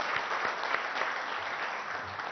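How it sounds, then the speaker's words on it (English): Audience applause fills a meeting hall at a CII business event in a hotel, a steady dense wash of many hands clapping throughout at moderate level, with no talk over it. "he deserves a big round of applause"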